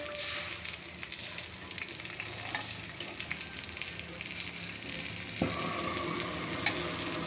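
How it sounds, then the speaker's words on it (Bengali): Two eggplants frying side by side in a pan on a gas stove give a continuous close sizzle, with a couple of light clinks of a utensil and no talking. "এখানে বেগুন ভাজা হইতেছে পাশাপাশি দুইটা"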